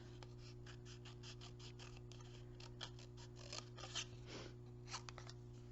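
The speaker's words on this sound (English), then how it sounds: "So I'm just going to trim this with my scissors." Scissors trim a paper card for a watercolor apple harvest project, a run of quick, crisp snips close up over a steady low background hum.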